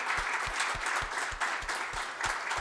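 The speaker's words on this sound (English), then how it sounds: "maybe we give one last round of applause to all presenters" A room full of people claps for the presenters at the close of a medical student research symposium, dense even applause lasting throughout with a few louder individual claps standing out, no talk over it.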